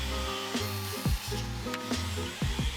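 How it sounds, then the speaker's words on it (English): A deck railing sawn to length, a close, rough repeated cutting rasp with a few abrupt strokes over a steady low motor-like hum, brief and continuous with no voices. "Cut the railing to length,"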